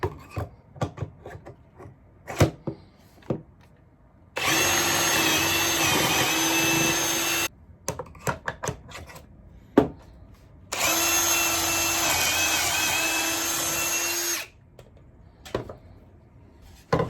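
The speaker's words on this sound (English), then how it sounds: "once you've drilled out your pocket holes" Pocket holes being drilled into wood with a pocket hole screw starter kit's drill: two sustained whirring bursts of about three and four seconds. Short knocks and handling clatter fall between and around them, with no talking.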